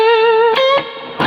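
Electric guitar played through a LEKATO B-Breaker overdrive pedal in a Chicago blues style, a sustained distorted note ringing out then sliding into shorter picked notes, loud and close with no voices.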